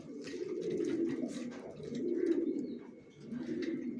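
Two young female racing pigeons of the down type coo softly and close by, producing a few low, rolling throaty phrases in a steady rhythm, with no voices.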